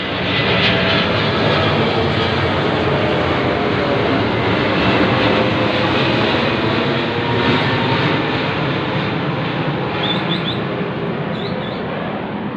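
An airplane passes low overhead, a loud, steady, broadband engine roar that fills the whole stretch without letting up, with no one speaking.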